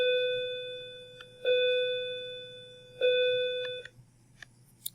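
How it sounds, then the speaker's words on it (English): A bell near a classroom lecture sounds three sustained, clear tones in a row, each ringing for over a second before stopping abruptly, followed by a few faint clicks in a quiet room. "Apologize for the bell."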